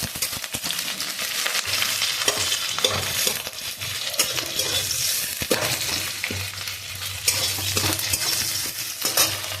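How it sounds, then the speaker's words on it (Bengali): Onion frying in hot oil in a wok, a continuous crackling sizzle broken by frequent metallic scrapes and clinks of stirring. "কড়াই তেল গরম হয়ে গেছে, পেঁয়াজটা দিয়েছি।"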